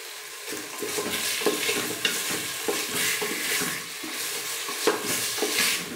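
Chicken momo filling being stirred in a frying pan, a soft sizzle beneath repeated spatula scrapes and knocks in an uneven rhythm, close up with no talk.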